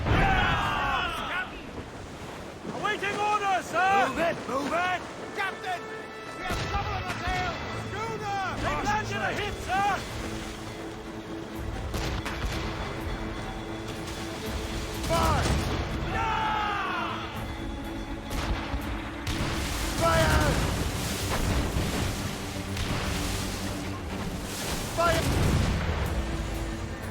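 Ship cannons fire during a naval battle in Assassin's Creed Rogue, heavy booms and crashing impacts spread across the stretch, with shouted crew voices, creaking and battle noise throughout.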